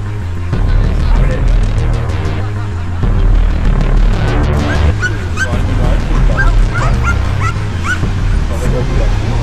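Attack-trained dogs bark and yelp in repeated bursts during a GIPM police unit trial, loud and close over a steady low engine rumble, with some voices mixed in.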